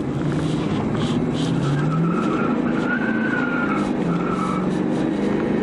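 A Peter H2 Panzer truck with a Duramax diesel conversion and stainless steel exhaust accelerates hard, its engine roar rising steadily in pitch, loud and close for the whole stretch.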